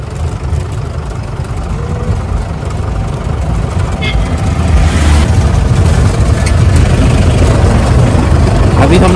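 A safari jeep engine on a narrow mountain road near Idukki starts and settles into a loud, steady rumbling idle, heard close up and growing slightly louder while people talk over it.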